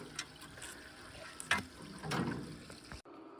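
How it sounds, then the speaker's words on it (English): Water from a spring runs through a Smart Bot 2800 pump into a tank, a steady wash of flowing, splashing liquid with a few brighter gushes, cutting off abruptly near the end. "There, we got the water flowing"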